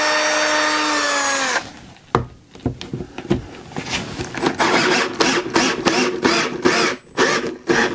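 A power drill drives screws into wood while building a hi-fi rack, starting with a steady motor whine and then breaking into a run of short, loud bursts with brief pauses between them.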